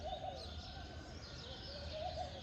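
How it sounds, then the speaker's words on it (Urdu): A pair of doves perched outdoors coo softly, with a few low, hooting calls rising over a steady background hum, some way off and fairly faint. "یہ فاختہ کی جوڑی بیٹھی ہے جی"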